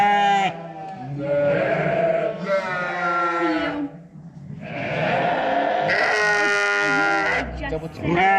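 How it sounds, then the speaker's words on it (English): Sheep bleat repeatedly at close range during lambing, drawn-out wavering calls from ewes or lambs coming in several long bursts with brief pauses between them. "Cheyenne, is that a ewe or a ram?"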